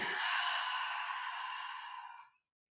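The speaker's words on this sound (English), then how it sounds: "Breathing." A single long, deep exhale during a seated chair neck-circle exercise, airy and close, lasting about two seconds before fading to silence.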